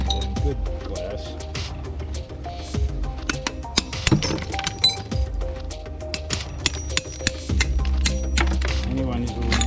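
Glass being tapped and broken on a golden totem with lights, sharp clinks and cracks scattered irregularly throughout over a steady low hum, with speech present in the background.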